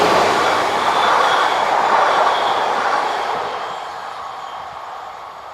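Electric locomotive BB 22363, Chambéry-based, hauling a Dijon to Lyon passenger train in France, rumbling steadily and loudly close by with a broad rail roar that eases slightly toward the end.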